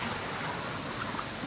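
Dibulo Falls in Dinapigue, Isabela sends up a dense, steady rush of churning water, a loud wash of noise filling the short stretch with no voices over it.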